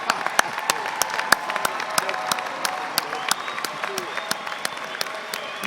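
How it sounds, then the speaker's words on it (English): A commencement ceremony audience claps steadily, dense overlapping applause from a large crowd with sharp individual claps standing out, no talk over it. "Please join me in applause."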